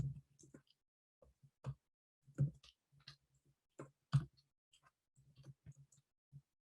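A mouse clicks on a create sub account button, giving a handful of crisp, isolated clicks spaced irregularly over a quiet background.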